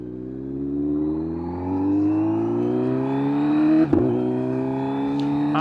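A 2025 Kawasaki Z900 SE motorcycle engine revs up steadily as it accelerates on a freeway, pitch climbing smoothly with a steady road rumble underneath, no talking.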